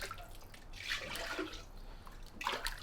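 Liquid white or green glaze is poured into a pottery urn, giving splashing, gurgling sounds in uneven bursts, fairly close and moderately quiet.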